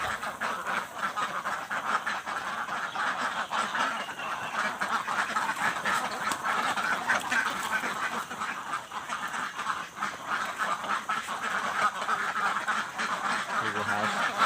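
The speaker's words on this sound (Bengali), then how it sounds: "এই আবার হাঁস," A flock of farm ducks kept alongside chickens quacks and honks nonstop, a dense, loud, overlapping chorus that runs steadily throughout.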